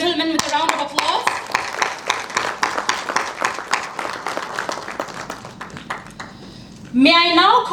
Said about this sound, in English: Please welcome this gentleman with a round of applause.